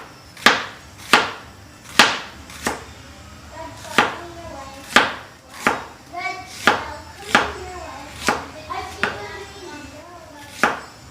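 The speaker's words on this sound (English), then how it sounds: "This onion we're going to slice up really fine." A knife chops through an onion cut very finely on a board, about fourteen sharp, even knocks a little under a second apart, close and loud with no voices.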